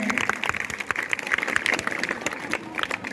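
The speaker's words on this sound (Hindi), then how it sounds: "तालियां बजाकर इन बच्चों की हौसला अफजाई करते रहें" Audience clapping at a 15 August Independence Day school programme at GSSS Salempura, cheering on children who performed; scattered, moderately loud claps with some crowd noise over about three seconds.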